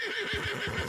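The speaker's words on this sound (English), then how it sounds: "Another thing that should be noted is that I've named this horse, Bort." A horse in the Red Dead Redemption 2 video game, a yellow mount, whinnies in a loud, close, wavering neigh that fills the whole second, with faint hoof thumps underneath and no talking.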